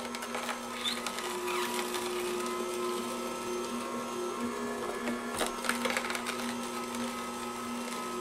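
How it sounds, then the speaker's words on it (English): Orfeld masticating juicer grinding carrots on its hard setting, a steady mechanical motor whir with a constant hum and crunching texture throughout, close and continuous with no talk. "So we'll put some more carrot in using the hard setting"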